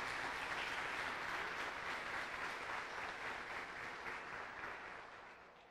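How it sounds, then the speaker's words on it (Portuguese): Warm applause from a church congregation holds as a steady, even wash of many clapping hands and slowly tapers away toward the end. No voices are heard over it. "essa família quer cumprimentar a você com uma forte e calorosa salva de palmas"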